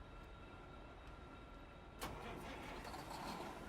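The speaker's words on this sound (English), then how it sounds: "I have a 600 horsepower Detroit diesel on this bitch right now, and it sounds phenomenal." A 600 horsepower Detroit diesel truck engine in American Truck Simulator cranks and fires up after a quiet stretch, with a sudden burst of noise that settles into a low idle rumble, fairly faint.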